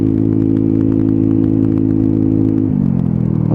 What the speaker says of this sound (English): you can hear that exhaust just working away underneath